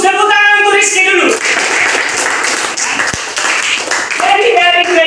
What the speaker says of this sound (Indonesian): Bagus, tepuk tangan untuk Rizky dulu.